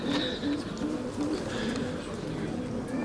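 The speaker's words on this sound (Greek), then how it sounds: "είναι πολύ καλά περιστέρια" Several pigeons coo close by in repeated soft, throaty phrases, with other bird calls mixed in and someone talking over them.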